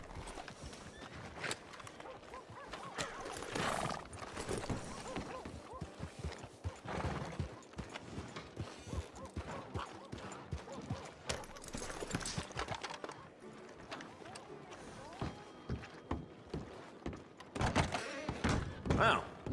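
Horse hooves clopping and a whinny in the Red Dead Redemption 2 video game, irregular thudding steps with occasional knocks, moderately close and fairly quiet.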